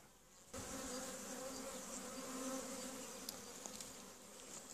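Dense honeybee buzzing from a strong, crowded hive, a steady close drone that swells in after a brief quieter start, with a few faint clicks near the end.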